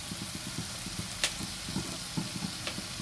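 Banana flower (mocha) fries in a pan with salt and turmeric, a quiet steady sizzle broken by light rhythmic scraping and stirring taps.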